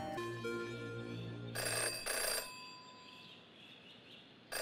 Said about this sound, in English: Have a ringing phone